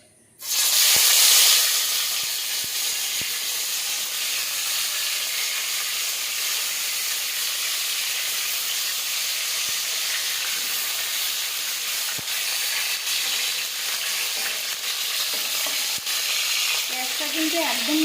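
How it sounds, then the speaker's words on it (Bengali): Hilsa fish paturi parcels hit hot oil in a pan with a sudden loud sizzle that settles into a steady, dense frying hiss, dotted with faint clicks and pops. "তেলটা গরম হয়ে গিয়েছে। এবারে আমি পাতুরিগুলো ছেড়ে দেব।"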